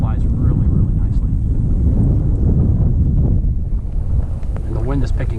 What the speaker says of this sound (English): And the wind is picking up, as you can hear